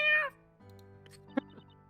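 A cartoon cat in the Professor Layton vs Phoenix Wright video game gives one short, clear meow at the start, followed by quiet tonal game music and a small chime.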